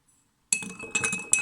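Metal spoon stirring sugar in a glass: after a short silence, a run of bright clinks against the glass in an uneven rhythm, close and fairly quiet, with a sharper tap near the end.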